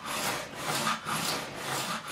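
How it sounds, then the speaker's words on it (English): A 9.5-inch radius sanding block with 400-grit sandpaper is worked over the lacquered fingerboard of a 2005 Fender Standard Stratocaster neck, giving rhythmic back-and-forth rasping strokes, about four close, even passes with no talking. "sanding off the lacquer"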